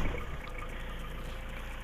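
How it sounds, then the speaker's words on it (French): An old Jeep Cherokee diesel engine idles with a steady, rough, tractor-like clatter, close and continuous without any voices. "ça fait un peu agricole hein, le bruit, hein. Bah, c'est un bon vieux diesel quoi"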